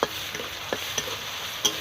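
Onion and ginger-garlic paste fry in a pan with a steady soft sizzle, broken by a few brief scraping stir strokes.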